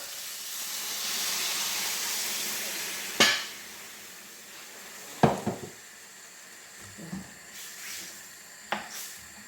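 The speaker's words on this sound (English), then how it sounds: "now we're gonna add a vegetable stock" Vegetable stock poured into a hot pot of Jamaican-style coconut jackfruit curry, a steady bright sizzle and steam hiss settling down, broken by a few sharp clinks of utensils against the pot, heard alone without talk.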